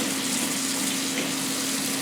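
Hot tap water runs steadily over a foam polishing pad, a continuous hissing splash with a faint pump-like hum underneath, even and unbroken throughout.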